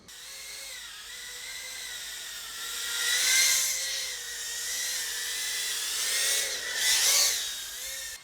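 An iFlight C85 cinewhoop drone flies nearby, its small motors giving a continuous high-pitched whine that rises and falls in pitch, with two louder swells as it passes closer.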